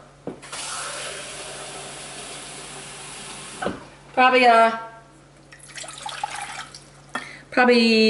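Tap water running into a small pan for soup, a steady stream for a few seconds before stopping, followed by someone talking over brief drips and splashes.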